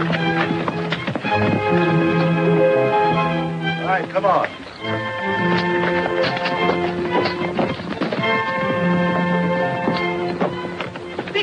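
Horses clip-clop steadily beneath a loud dramatic orchestral score in a 1939 Western, with someone briefly speaking over the hoofbeats.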